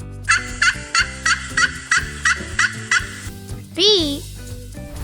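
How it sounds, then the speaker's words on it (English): A turkey gobbles in a fast series of about ten sharp, rhythmic clucks, then gives one loud, warbling, rising-and-falling call near the end. "Turkey."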